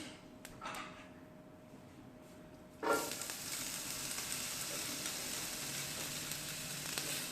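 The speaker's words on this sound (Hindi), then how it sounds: "ऑयल ऐड करके इसमें मैं प्याज शामिल करूंगी।" Onions are dropped into hot oil in a pan, setting off a sudden burst of sizzling that settles into a steady, even hiss after a quiet start.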